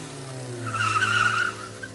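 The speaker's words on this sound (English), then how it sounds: "They also heard a car screeching off." A car's tires squeal as it screeches off, a brief, moderately faint high whine over a low engine hum that rises and fades within about a second.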